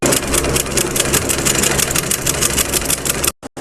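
An electric sewing machine runs steadily while stitching a gathered frill onto the upper part of a garara, a continuous motor whir with rapid needle pulses, close and loud, stopping abruptly near the end.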